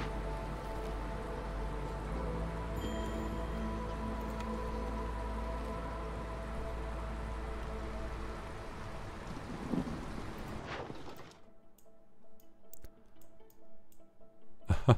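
Steady rain patter from the drizzle season in the video game Against the Storm, a dense continuous wash that holds for about eleven seconds, then cuts off abruptly and leaves quieter scattered sounds.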